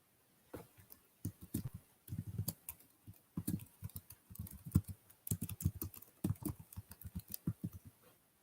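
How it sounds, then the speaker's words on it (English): Typing on a computer keyboard in short bursts of quick, close, fairly quiet key clicks separated by brief pauses, with no talking. "I typed in flat earth."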